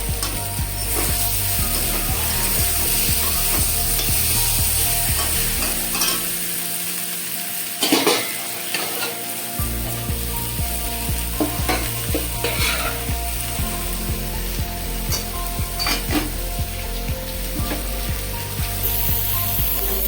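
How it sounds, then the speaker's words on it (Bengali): Catla fish pieces and potatoes turned through fried spice paste in a hot pan, a loud continuous sizzle carrying on for a long stretch, with scraping and clattering stirring strokes coming and going throughout, no voices. "এবার একটু নাড়াচাড়া করে দেবো। মশলার সাথে মাছ আলু সব মিশিয়ে নেবো।"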